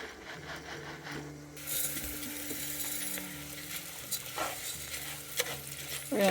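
Onion hitting a hot pan for a meatless orzo dish, a sudden burst of sizzling that settles into a steady close frying hiss with a few scraping stirs, moderately loud, no speech.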